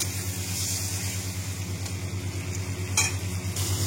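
Pointed gourd (parwal) frying with turmeric in a pan, a steady close sizzle over a low rhythmic hum, with a few brief scraping clinks of stirring.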